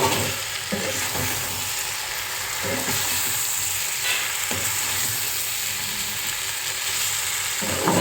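Poppy seeds fry in a pan with a continuous close sizzle while a spoon stirs them in a run of soft scraping strokes, heard alone throughout without any voices.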